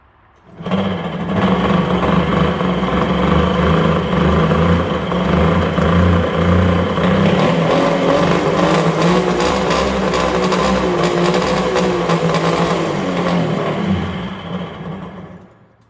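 A long-unused ZRT 600 triple-cylinder snowmobile engine runs steadily while the machine is driven, holding a loud, continuous buzzing drone close by for about fourteen seconds before it fades at the end.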